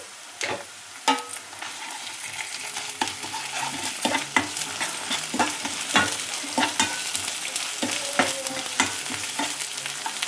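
Onions with ginger garlic paste crackle and sizzle in ghee in a pan, with repeated sharp scraping and clinking as they are stirred, moderately loud and close.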